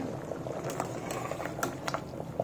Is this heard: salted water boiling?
yes